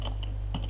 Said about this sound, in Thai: จากนั้นผมก็พิมพ์ localhost